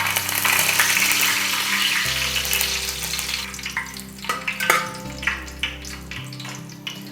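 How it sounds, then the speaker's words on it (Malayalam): A handful of curry leaves sizzles and crackles in hot oil in an iron pan, a loud steady frying hiss that settles into scattered pops. "നമ്മുടെ എണ്ണ ചൂടായി വരുമ്പോൾ നമുക്കൊരു പിടി കറിവേപ്പില അങ്ങോട്ട് ഇട്ട് കൊടുക്കാം"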